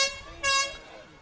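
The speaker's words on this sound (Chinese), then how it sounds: "场外的鸣笛声响起" A loud air horn sounds from outside the field at an ultimate frisbee match in a national championship game, giving one short blast after a softer tone.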